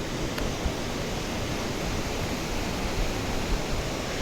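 Broad steady rush of the Ghataprabha river flowing through a wide channel, a continuous even roar of water holding at a constant level with no voices.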